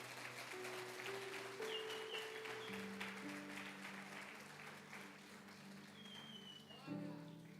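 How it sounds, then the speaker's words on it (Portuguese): A church congregation applauds during a sermon, a steady broadband clatter of clapping lasting several seconds beneath sustained keyboard chords and a voice. "aleluia, aplauda Jesus por isso"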